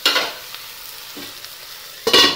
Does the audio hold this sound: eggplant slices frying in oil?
yes